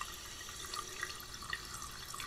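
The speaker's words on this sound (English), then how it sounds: "Turn on the hot water." Hot water runs steadily from a tap in a video game, a continuous hiss of flowing water with faint drips, alone and moderately quiet for the whole stretch.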